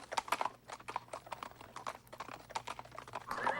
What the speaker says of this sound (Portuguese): com seus oficiais os acompanhando a cavalo